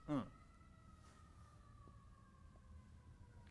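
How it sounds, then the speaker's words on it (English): A distant fire truck siren sounds faintly, a thin steady tone slowly falling in pitch behind low background rumble. "All right, it was a fire truck, folks."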